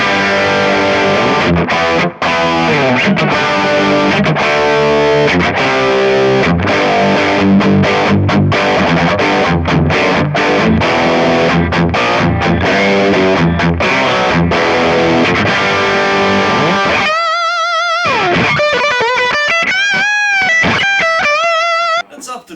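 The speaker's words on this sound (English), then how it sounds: "It's a distortion pedal," An electric guitar through a Rat-style distortion pedal effect on a Kemper Profiling Amp plays chunky, heavily distorted riffs with a thick fuzzy tone, loud and continuous, ending in a few ringing sustained notes.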